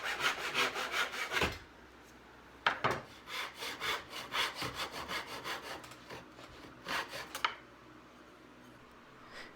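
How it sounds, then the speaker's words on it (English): A handsaw cuts through 3/4-inch square walnut strips in quick rhythmic strokes, loud and near, with a short pause partway before the sawing resumes in a second burst and stops. "I cut a ridiculous number of walnut strips, 3/4 inch square, and started applying them to the panels and cutting them to"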